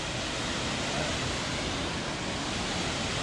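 Waterfall along the Sa Pa - Y Tý mountain route in northern Vietnam, a steady broadband rushing roar of falling water filling the whole clip without a break, close and fairly loud, with no voices.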